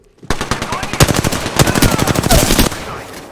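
Loud, rapid automatic gunfire from a video game, one long sustained burst of closely spaced shots lasting several seconds and then cutting off abruptly.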